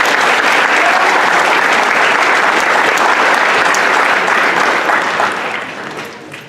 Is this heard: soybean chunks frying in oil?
no